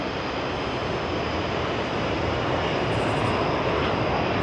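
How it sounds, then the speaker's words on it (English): A jet airplane taking off at an airport, a loud continuous broadband engine roar that holds steady and builds slightly, heard alone without talk. "the jet taking off."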